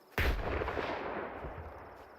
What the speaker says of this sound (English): they're throwing grenades at me already